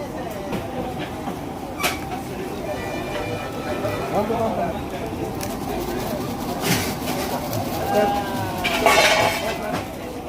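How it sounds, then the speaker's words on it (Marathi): Large cooking pots and utensils clatter in a busy communal kitchen preparing a mass meal for pilgrims on the Wari, with metallic clinks and knocks scattered over steady crowd murmur and background talk. "एवढे मोठे टोप चालू आहे जेवण पण चालू आहे आणि स्वयंपाक पण चालू आहे संध्याकाळी"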